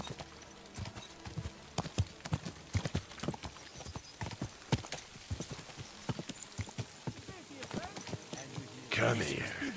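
Horse hooves in Kingdom Come Deliverance 2 clip-clop in a steady, fairly close trotting rhythm, with low voices underneath and a burst of noisier rustle at the very end.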